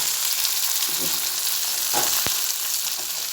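Small mourola fish fry in hot oil for a spicy jhal curry, giving a continuous loud sizzle up close, with a couple of brief scraping and tapping sounds from stirring.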